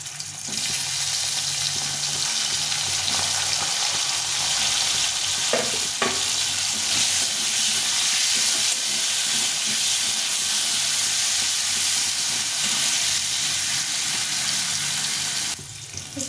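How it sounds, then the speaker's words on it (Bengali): Pieces of bitter gourd fry in hot oil in a pan. A loud, continuous sizzle hisses for the whole stretch, with a couple of brief utensil clinks partway through and no talking. "তেলটা গরম হয়ে গেছে, এখন করলাগুলো ভেজে নেব।"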